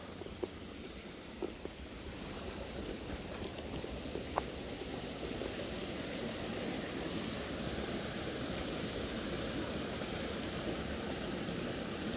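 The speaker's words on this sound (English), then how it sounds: "a waterfall." A waterfall on a spring valley hiking trail gives a steady, distant rushing of falling water, a constant even roar with a couple of faint knocks near the start.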